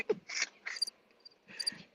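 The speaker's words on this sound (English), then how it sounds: "I hear crickets now." Faint crickets chirp in short high bursts, a few quiet pulses spread across a near-silent moment.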